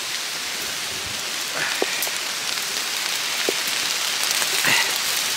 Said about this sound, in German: Guck mal hier, es fängt schon wieder an zu regnen.